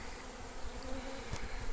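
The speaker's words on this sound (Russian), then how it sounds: "Ой, пчелы вокруг меня начали летать уже, садятся на плечи, на голову, но не атакуют." Bees buzz steadily all around at close range while a swarm is collected from a roof in England, a dense, continuous hum with no one speaking.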